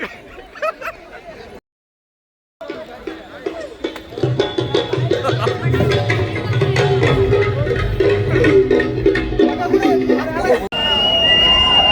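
Dense babble from a large crowd at a folk music event in Wakad, swelling and growing steadily louder after a brief silent gap, with nearby voices talking over the hubbub.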